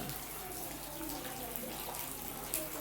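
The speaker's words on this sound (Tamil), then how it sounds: "மழை பெஞ்சிட்ருக்கு நல்லா." Heavy rain pours steadily around an old house ringed by coconut trees, a dense, even hiss of water heard from indoors, with a faint voice in the background.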